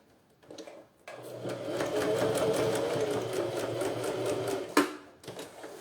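A sewing machine stitches right along the edge of a bag in one sustained, close run of rapid needle chatter lasting several seconds, starting after a short pause and ending with a sharp knock.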